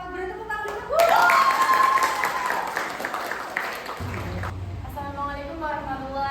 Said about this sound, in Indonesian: Silakan kelompok 4 beri tepuk tangan dulu.